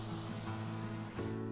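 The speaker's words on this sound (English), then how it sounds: "completely wet the wood down with a hose" A garden hose sprays water onto teak wood being cleaned, a steady, close hiss of spray that shifts in tone near the end as the stream moves.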